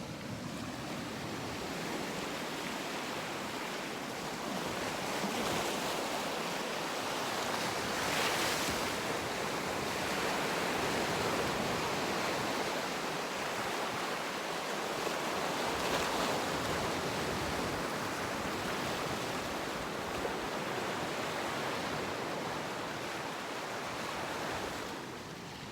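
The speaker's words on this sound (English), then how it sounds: "you will be hearing the sound of ocean waves in the background" Ocean waves wash in continuously as a broad, steady roar of surf, with gentle swells and some wind across the microphone, fairly soft and unbroken by voices.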